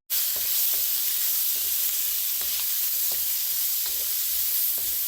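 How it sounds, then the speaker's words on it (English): Asparagus and peppers stir-frying in basil butter give a steady, loud sizzle throughout, broken by soft clicks and scrapes of stirring. "so stir fry that a little bit before we add our onion to it"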